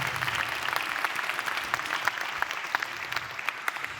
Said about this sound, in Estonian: Suur aplaus meie järgmisele esinejale, Steve!